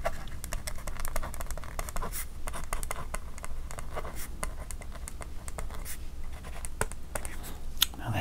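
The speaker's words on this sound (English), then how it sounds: "we are going to write down Ricky Henderson" Pen or pencil scratching on paper while noting a price for an old Ricky Henderson baseball card, close and soft, with brief rustles and taps in a quiet room.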